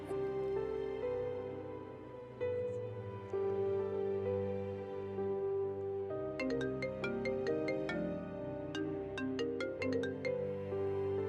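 A mobile phone ringtone plays loud and steady for several seconds, melodic repeating tones ringing alone in a domestic scene of an Urdu TV drama, with no voices over it.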